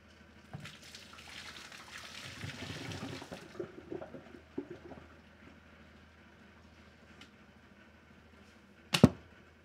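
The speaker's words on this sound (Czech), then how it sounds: "Nalijeme vodu." Hot water is poured into a bowl of instant Chinese soup, a soft splashing pour lasting a few seconds, followed by faint clinks and a sharp knock.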